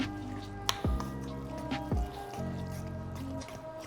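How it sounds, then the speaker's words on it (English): Ground chicken wonton filling mixed with water is stirred into a paste, giving soft wet squelches and a few sharp clicks of a utensil against the bowl, faint and close, with no talk. "Now we're gonna stir that up until it's real creamy and pasty."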